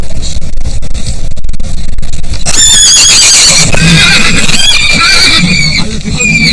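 Horse in Mongolian herding country, letting out a loud, close whinny with bright wavering pitch that rises and trails off over a few seconds, following a stretch of low rumbling field noise.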